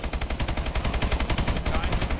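Rapid machine gun fire in the Call of Duty Exo Zombies game rattles out as one continuous loud, evenly pulsing burst with no talk over it.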